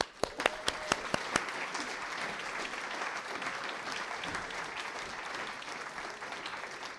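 An audience applauds to welcome poet Cedar Sigo at a reading. A few sharp claps open it, then steady, moderately distant clapping continues throughout.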